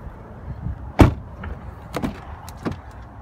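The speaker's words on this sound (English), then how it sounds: "Open up the other door." A 2019 Ford Raptor pickup truck door unlatches with a sharp clunk near the start, followed by softer thumps and clicks of the door moving and settling, close by in a quiet interior.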